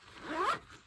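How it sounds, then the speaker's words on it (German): A large, sturdy YKK zipper on an EDC pouch is pulled once in a quick, close rasping sweep that swells in the middle and fades, with no talk over it. "Auch ein sehr großer, stabiler Reißverschluss"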